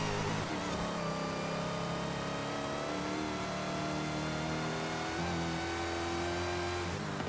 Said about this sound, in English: she's just burning out